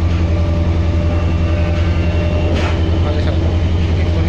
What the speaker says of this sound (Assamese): ডেমো ট্ৰেইনখন চাওক